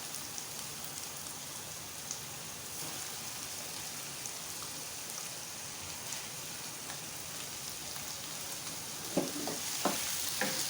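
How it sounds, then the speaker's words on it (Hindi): Potatoes frying in oil for aloo bhujia, a steady close crackling sizzle throughout, with a few louder clicks and spatters near the end; no one speaks. "अब इस टाइम पे आलू डाल दें, आलू की भुनाई कर लें साथ"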